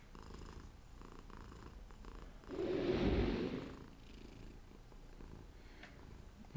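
A cat purrs close and quietly in a softly rumbling burst of a second or so that swells and fades against a low background hum, with no talk.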